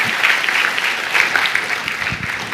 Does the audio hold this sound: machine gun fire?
no